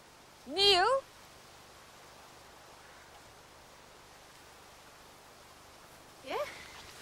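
A cat meows twice, a clear rising-falling call near the start and a shorter one near the end, separated by quiet room hiss.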